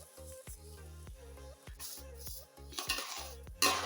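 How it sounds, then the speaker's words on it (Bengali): Rice being fried and stirred in a pot for Old Dhaka chicken tehari: a metal spoon clanks and scrapes against the pot in a quick, irregular rhythm, close up, over a faint sizzle with no talking. "চালটা আমি ভেজে নিচ্ছি।"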